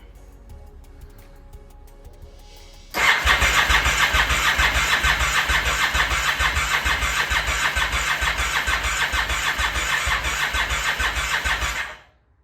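A Honda VTR 1000 motorcycle engine cranks and fires after a few seconds of quiet, then runs loud and steady with a rapid low rumble close by until it cuts off abruptly near the end.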